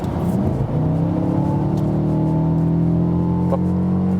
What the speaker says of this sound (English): let's accelerate from 75 to 100 kilometers